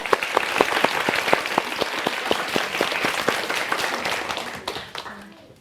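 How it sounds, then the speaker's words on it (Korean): Lecture audience breaking into applause, a dense burst of claps that stays steady for several seconds before thinning out and fading near the end. "박수 좀 주세요."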